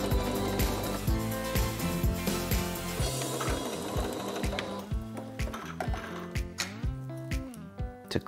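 Sewing machine stitching close to the edge of a pleated skirt's fixed waistband, a steady mechanical whirring of rapid needle strokes that pauses and restarts in short bursts, close and fairly loud with no talk.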